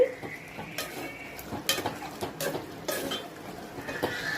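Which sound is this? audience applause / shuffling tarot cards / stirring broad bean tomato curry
stirring broad bean tomato curry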